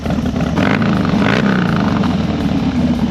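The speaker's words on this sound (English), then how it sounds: "But right now, choke's off, it's idling pretty good, it's warming up." A Harley FXDX with straight pipes and a fresh carburetor idles while warming up, its loud, steady, rumbling exhaust heard close and continuous.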